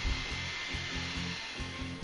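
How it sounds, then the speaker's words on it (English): A handheld hair blow dryer runs in a steady, close, loud whoosh with a low motor hum, used to dry a freshly stained Ruger 10/22 rifle stock. "Just going to use a hair blow dryer to kind of quickly dry this thing out."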